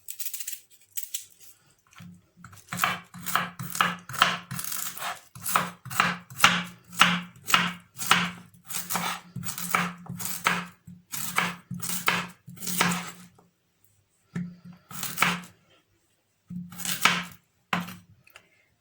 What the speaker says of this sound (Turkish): havucumuzu doğramaya başlayalım